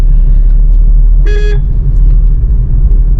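A single short car horn toot cuts through a loud, constant rumble of street traffic.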